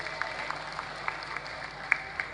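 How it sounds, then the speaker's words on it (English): Audience at a progressives youth party conference claps for the organizers, a steady wash of many hands heard from some distance, with scattered sharper claps standing out. "Can we clap for them properly,"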